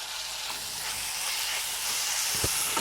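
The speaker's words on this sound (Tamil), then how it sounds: "வெங்காயம் வதங்கியாச்சு இப்போ தக்காளியை சேர்த்துடுறேன்" Onions and tomatoes sautéing in a pan for a Tamil veg salna, a steady broadband sizzle and hiss running throughout with a brief soft stirring knock near the end, no talking.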